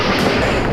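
A submarine fires torpedoes in the video game Steel Diver Sub Wars: a loud, dense rushing blast that holds steady for under a second, close and full, with no voices over it.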